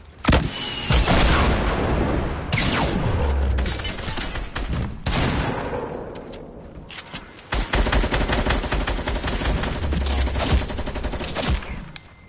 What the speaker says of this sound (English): Orbital cannon.